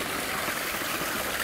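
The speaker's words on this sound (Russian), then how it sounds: "Он падает таким маленьким водопадиком." A small waterfall where a stone-lined garden stream in a Japanese garden in Prague drops at its end: a steady, close babble and splash of falling water.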